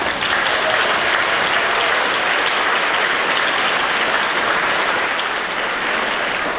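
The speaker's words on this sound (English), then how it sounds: "Please give them all another round of applause." Applause for the winners at the Community Rail Awards: a dense, continuous round of clapping from a large audience, steady and full for several seconds with little else heard.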